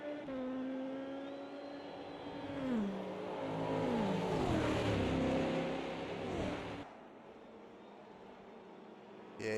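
Race cars in a racing game drone past on an endurance track, engines holding a steady tone before sweeping down in pitch, then fading to a quieter hum.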